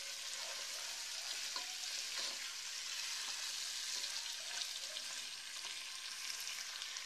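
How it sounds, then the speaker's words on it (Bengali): Mutton frying in a pan for a Bangladeshi-style rezala, a steady bright sizzle that runs the whole time with faint scraping as the meat is stirred, no voices. "এবার মাংসটা ভালো করে নেড়ে মিশিয়ে নিব।"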